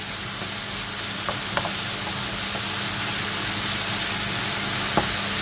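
Mushrooms sizzle steadily in a frying pan for a bacon and mushroom quiche, a constant bright hiss with a few faint clicks and pops, close and continuous with no talking.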